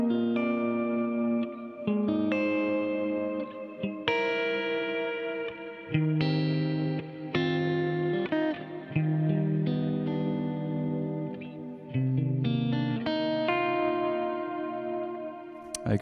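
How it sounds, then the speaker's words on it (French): A clean electric guitar playing a melodic phrase of notes and chords through a Steel String Supreme pedal, smooth and sustained, washed in heavy reverb with an even, compressed level. "essayons maintenant avec genre une tonne de reverb, juste pour voir ce que ça donne"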